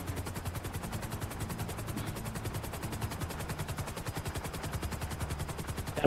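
Video game helicopter with rapid rotor chop mixed with constant loud machine-gun fire, a dense unbroken barrage of shots throughout.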